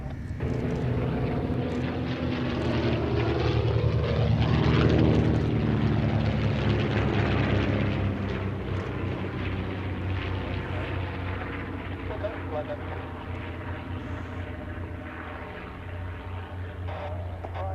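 A Westland Lysander propeller aircraft drones steadily as it flies past, its engine note swelling to a peak near the middle and easing off afterward, with a voice talking over it throughout.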